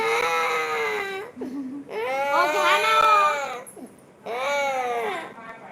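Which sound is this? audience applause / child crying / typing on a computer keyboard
child crying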